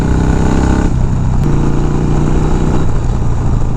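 A 1980s Harley-Davidson FXR cruising along a back road, its engine a loud, steady rumble close up throughout with a slight shift in pitch partway through, dense low-end throb and constant wind noise.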